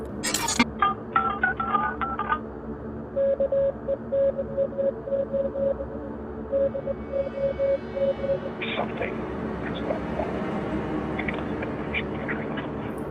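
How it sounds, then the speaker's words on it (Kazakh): In a horror video game, a phone call plays out with a rapid burst of touch-tone dialing, then a long run of repeating pulsed tones over a droning, crackling line, ending in distorted noise. "Ойыншылар бұл номерге телефон арқылы хабарласып көруді шешеді, және хабарласқан кезде мынандай нәрселерді естиді"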